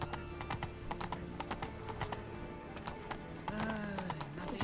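Roach, Geralt's horse in The Witcher 3, clip-clops along at a steady walking pace, each hoofbeat close and distinct, with a short snort or whinny near the end.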